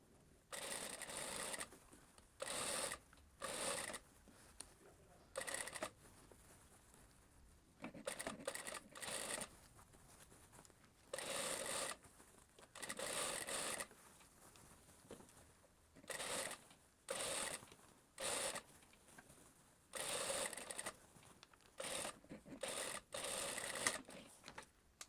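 A sewing machine stitching a blouse in bursts, several runs of rapid mechanical whirring separated by short pauses, close and steady, with quiet handling sounds in the gaps.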